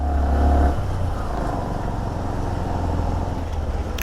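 A 115cc Hero Honda Platina motorcycle riding a scenic mountain road in the Malana Valley, Himachal Pradesh, its engine droning steadily and close with a low rumble and wind noise throughout, slightly louder at the start.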